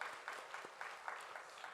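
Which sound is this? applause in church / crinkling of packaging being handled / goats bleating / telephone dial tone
applause in church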